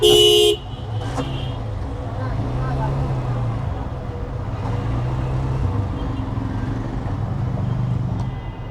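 Steady road traffic rumbles in a jam with a short horn toot at the start, then a Hero Xtreme 125R motorcycle engine drones on continuously under the busy street noise.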